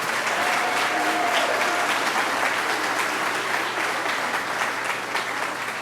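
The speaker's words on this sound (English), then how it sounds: "Please help me give them a round of applause." Steady, dense applause from an audience at an elementary school graduation ceremony, a continuous wash of many hands clapping at even loudness throughout, with no voices standing out.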